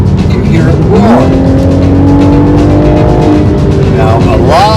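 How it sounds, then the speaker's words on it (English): A turbocharged 2021 Toyota Supra GR 3.0L engine roars loudly up close, its pitch climbing steadily through the revs before dropping and rising again, with a voice talking over it. "a turbo Toyota Supra with lots of speed and power in the old-fashioned internal combustion engine. Hear it roar."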